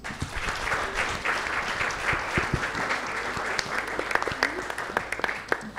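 Sustained applause from an audience greeting the Miss RD Congo beauty pageant contestants, dense steady clapping for several seconds with a few sharper claps standing out near the end.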